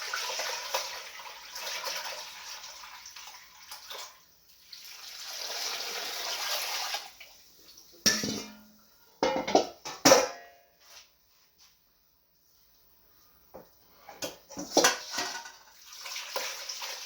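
Salt brine for a home-cured ham pours through a strainer in intermittent bursts, splashing and trickling close by with pauses and a few soft clinks between pours.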